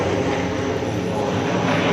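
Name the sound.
airplane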